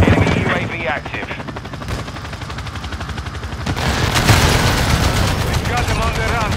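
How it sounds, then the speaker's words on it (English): A video game airstrike with helicopter gunfire: a continuous rotor thrum under rapid machine-gun bursts and heavy blasts, loud and close, with a radio-style voice speaking over the combat. "Hostile airstrike near your location"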